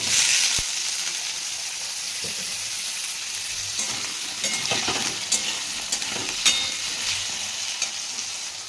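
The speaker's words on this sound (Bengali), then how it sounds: "এবার আলুগুলো ভেজে নেবো।" Potatoes fry in hot oil in a wok with a steady, close sizzle, punctuated by the scrape and clack of a spatula stirring them at irregular intervals.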